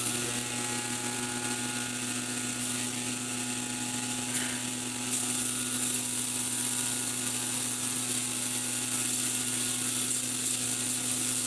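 A parts cleaning machine runs with water, making bubbles as it cleans an old part, a steady close mechanical hum with constant tonal drone and fine bubbling hiss throughout, loud and unbroken with no talk.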